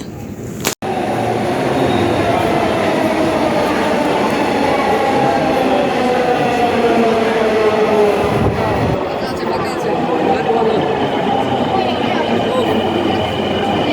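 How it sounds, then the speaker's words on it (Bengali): A metro train pulls into a crowded station on a busy fair day with a loud, continuous rumble and a rising mechanical whine. A sharp click sounds near the start, and crowd voices murmur underneath. "এতক্ষণে আমাদের ট্রেনটা আসার সময় হলো এসে যাচ্ছে"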